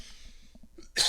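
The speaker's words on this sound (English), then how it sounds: "I'm going to cough." A single sharp cough bursting out near the end after soft breathing, close and loud.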